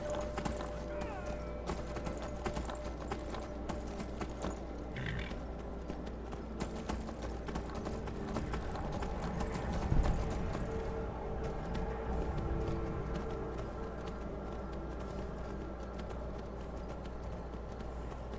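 Horse hooves clip-clop in the snowy terrain of Skyrim, a video game, as a steady galloping rhythm that runs throughout under dense game music and ambience.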